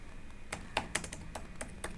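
Someone types code on a computer keyboard with irregular light clicks, close and fairly quiet, over a faint steady hum.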